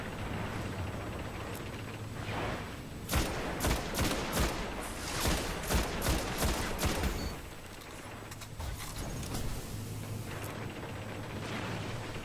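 Gunfire in the Destiny video game on PS4, a burst of rapid, repeated shots in the middle over a steady background rumble, quieter game ambience before and after.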